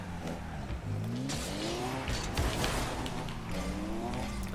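Rocket League cars race around with engines revving up and down and tires squealing and skidding close by, sweeping pitch glides overlapping with sharp scraping bursts and one loud impact midway, with no talk.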